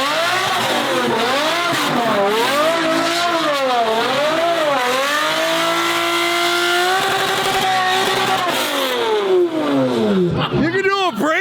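A straight-piped Ferrari V12 screams through a brake stand, revving up and down repeatedly in loud sweeping waves before a final sharp rise and drop, very close and continuous, with people's voices in the background.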